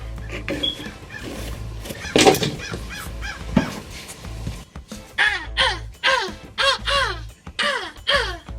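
Crows cawing repeatedly nearby outdoors while a minivan shock absorber is being replaced, harsh calls coming in bursts with a few thumps of work between them.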